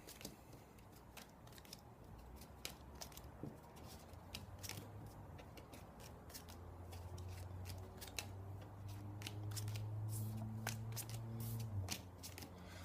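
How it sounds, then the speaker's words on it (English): Cards from the Fallen board game deck being shuffled by hand, a faint series of quick riffling and snapping bursts repeating several times, quiet and close, with a low hum underneath. "So you shuffle, shuffle, shuffle, and put those cards off to the side."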